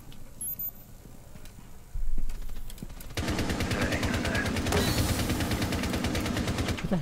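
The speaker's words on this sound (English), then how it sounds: "Who the heck is shooting?" Rapid bursts of gunfire from a Rainbow Six Siege match crackle in quick repeated volleys, closer and louder in the second half, following sparse scattered shots and a low thump, with no voices.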